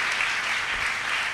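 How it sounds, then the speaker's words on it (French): A church congregation applauds loudly and steadily, a dense continuous wash of clapping with no voices on top. "Est-ce qu'on peut l'acclamer très fort?"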